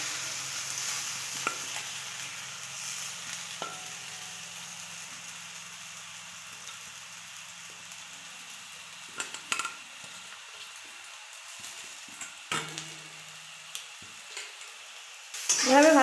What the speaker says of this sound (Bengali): এবার আমি চাউমিনটি কড়াই তুলে দিচ্ছি